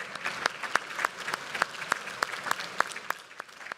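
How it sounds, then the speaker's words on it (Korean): Lawmakers of ruling and opposition parties standing in the National Assembly plenary chamber and clapping for the president, a sparse, rhythmic run of individual claps from a modest group, fairly close and steady. "본회의장에서 대기 중이던 여야 의원들은 자리에서 일어나 박수로 윤 대통령을 맞았습니다"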